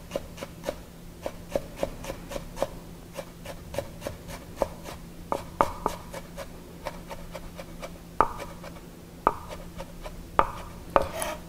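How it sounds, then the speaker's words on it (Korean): Kitchen knife finely chopping thin-sliced seasoning ingredients on a board, a steady run of crisp, close taps at a quick even rhythm, with a few louder strikes near the end and no talking. "얇게 썰어서 반대로 놓고 다시 송송송송 썰어줍니다."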